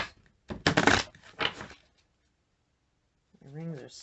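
A few quick bursts of tarot cards riffling and shuffling close by, followed by a short pause and a brief voice.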